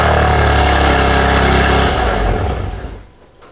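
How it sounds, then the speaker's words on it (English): A BMW M4 Competition cold-starts with its exhaust valves closed, a loud, dense engine roar that holds steady and then settles toward a quieter idle near the end. "Let's go ahead and get a cold start. Valves closed."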